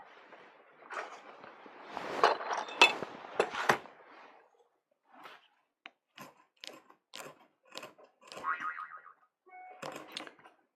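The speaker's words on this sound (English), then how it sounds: "That sound was the Patreon sound." Patreon new-member notification chime: a cluster of bright bell-like tones and boings, then a string of short, lighter plinks spaced out over several seconds, fairly quiet and close, with no talking.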